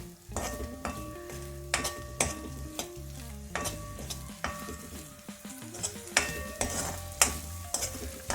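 Ingredients for pizza sauce are sautéed in a pan, soft sizzling under repeated stirring clinks and scrapes of a utensil against the pan, close and fairly quiet, in an uneven rhythm.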